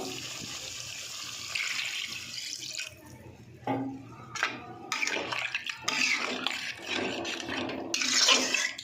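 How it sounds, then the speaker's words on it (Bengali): Water pours into a pan of jackfruit curry being cooked down into gravy, a broken, splashing flow that comes in irregular bursts at close range, with no talk over it. "আমি এবার জল দিয়ে দেবো"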